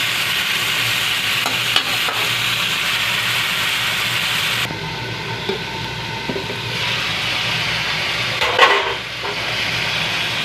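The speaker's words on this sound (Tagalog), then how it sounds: "Lagisa na natin, mga idol, ating pork ribs at balon-balunan." Pork ribs and chicken gizzards sizzle steadily in a hot pan for adobo, with a continuous frying hiss, occasional stirring scrapes and clinks of a utensil against the pan, close up.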